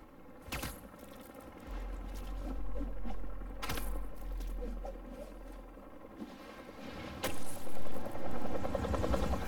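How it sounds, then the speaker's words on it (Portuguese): Helicopter rotor in the video game Spider-Man 2 on PS5, a steady low pulsing drone that holds under the action for several seconds while sharp impacts and scrapes break in now and then. "Um helicóptero? Hélices de helicóptero."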